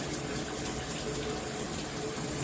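Water pours steadily from a 10-inch all-metal high-pressure rainfall shower head, a constant close hiss of spray with no pauses and no voices.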